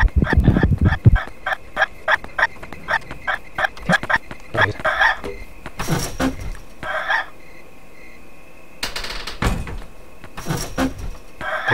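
Fowl in the video game Yomawari Night Alone, near a chicken coop, cluck and gobble in quick repeated bursts, with loud scuffling and sliding sounds in the gaps.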